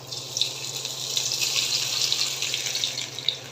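Tap water pours steadily into a sink as cooking ingredients are rinsed, a close, continuous splashing rush with faint bubbling and no voices.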